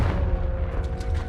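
The Confringo spell blast from Hogwarts Legacy gives a dense, low, rumbling burst that rolls on through the whole short moment without a break.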